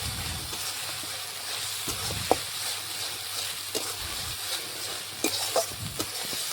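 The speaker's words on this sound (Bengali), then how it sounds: "মশলা থেকে তেল ছাড়তে শুরু করলেই মটনটা দিয়ে দেব।" Spice masala for mutton biryani fries in oil and is stirred steadily in a home kitchen, giving a continuous close sizzle with scraping and a few sharp clinks of the spoon against the pan.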